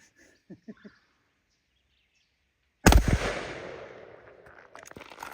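After a few faint mechanical clicks, a full-choke shotgun fires a single loud, sharp blast at a patterning target outdoors, its boom rolling away in a long fading echo.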